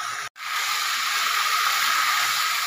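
Meat and onions sizzle steadily while being fried down in a pan, a close, loud, continuous hiss after a brief gap at the start, with no talking.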